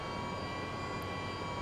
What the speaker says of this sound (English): we're going to take engine number 1 and we're going to bring it to start